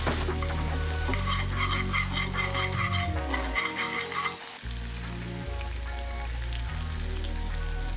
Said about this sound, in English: After we get that juice in, we're gonna get a real quick mix